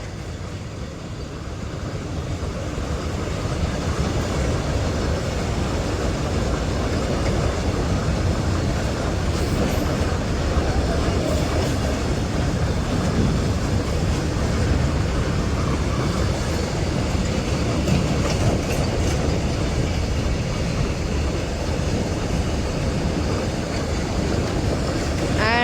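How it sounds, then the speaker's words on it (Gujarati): A freight goods train passes a level crossing with a steady, heavy rumble of wagons rolling by nearby after a quieter start, and the noise stays continuous to the end. "માલગાડી છે મિત્રો, માલગાડી."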